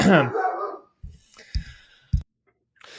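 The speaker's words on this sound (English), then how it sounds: "So we're going to let Thanos bark for a second" A dog barks three times in short, loud, separate bursts spaced about half a second apart, after someone talks briefly at the start.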